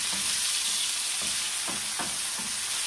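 Peppers, onion and diced tomatoes fry in a pan with a constant hissing sizzle, broken by a few soft clunks of stirring, close up and without speech.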